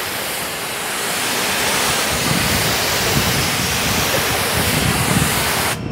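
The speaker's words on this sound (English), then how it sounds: "when I hit it with the water, guys, check this out" A water hose sprays steadily onto the waxed paint of a Cutlass Supreme, making a dense, continuous hiss of splashing water at close range with no talking.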